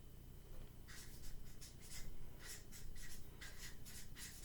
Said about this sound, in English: that's the last thing I'm going to write on my list